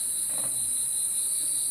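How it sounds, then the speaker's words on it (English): Crickets chirp in a continuous high-pitched shrill drone that holds steady and fairly quiet the whole time, with no voices. "You're hearing crickets."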